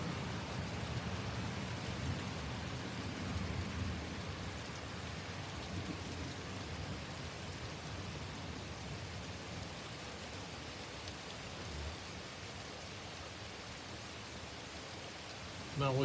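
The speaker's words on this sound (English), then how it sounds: "Now we come out here and it's raining." Steady rain pours during a thunderstorm in Oxford, UK, a dense continuous hiss of drops on surfaces with a low rumbling undertone, even and sustained.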